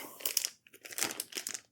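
Close, quiet crinkling and pressing of a plastic bag being squeezed of air and sealed around cured pork chops, in short rustling bursts, with a brief pause in the middle.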